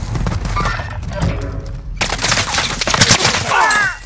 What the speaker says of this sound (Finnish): Sua ammutaan jostain tuolla katolla